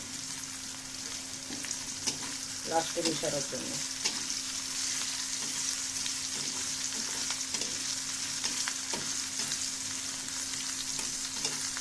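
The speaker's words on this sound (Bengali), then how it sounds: "একটু তেল আর একটু পেঁয়াজ রসুন এগুলো একটু ভাজা হলে তুলে রাখবো আলাদা করে" Onion and garlic frying in a little oil, a constant close sizzle with clinking, scraping stirs and a low steady hum beneath, and a brief spoken phrase partway through.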